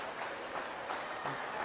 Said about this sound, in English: Great support from the crowd for her. Really encouraging her, clapping her on, cheering her on.